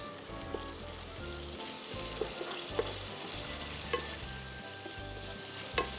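Curry paste fries and sizzles in a pan as it is stirred for a chicken and pickled bamboo shoot curry, a steady crackling hiss broken by occasional scrapes and taps of the utensil.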